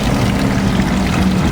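Water flows into an evaporative swamp cooler in a garage, a loud, close, steady rushing wash with a low hum underneath and no talking.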